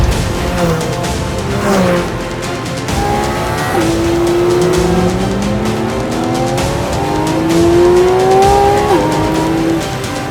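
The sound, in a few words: Porsche 718 GT4 RS engine revving to high RPM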